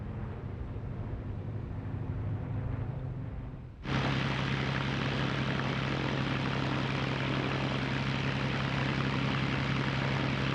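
A restored Spitfire fighter bearing the JEJ marking roars overhead, its propeller engine loud and steady after a sudden surge in volume, a continuous low droning hum with no voices.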